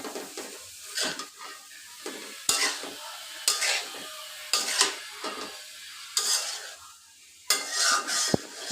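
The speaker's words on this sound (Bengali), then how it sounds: "তরকারি দিয়ে এখন ভালোভাবে নেড়ে চেড়ে নেব।" Tengra fish curry with greens stalks and potatoes being stirred in a pan, with repeated scraping strokes of a spatula over a soft sizzle, close and fairly loud, no talking.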